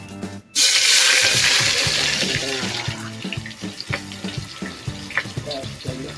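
Ingredients for a thick chicken gravy hit hot oil with a sudden loud sizzle that slowly settles into a steady frying hiss, with faint stirring knocks and a soft voice in the background.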